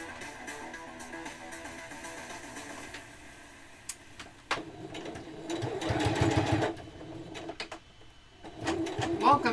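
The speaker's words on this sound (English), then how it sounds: "While I sew." A sewing machine stitches fabric for custom dice trays, running in short bursts and then a longer steady whir with a mechanical rattle, close and moderately loud under intermittent talking.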